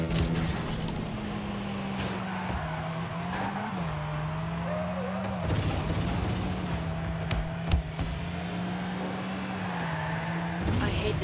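Rocket League cars drift across the arena with steady engine drone and sustained tire squeal, loud and continuous, joined by a few sharp impacts partway through.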